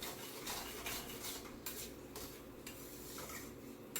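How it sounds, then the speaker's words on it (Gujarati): A spoon scrapes and stirs almond halwa in a pan in a home kitchen, soft steady rubbing and faint clinks repeating quietly throughout. "આમ હલાવા રાખવાનું"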